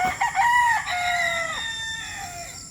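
A Boston Black gamefowl rooster crows close by in one long, loud call that rises and then tapers off, standing alone with no talk over it.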